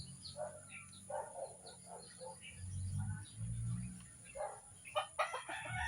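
A clutch of nine newly hatched chicks peeps in a steady run of short, high calls, with low clucking from a hen or other fowl mixed in close by.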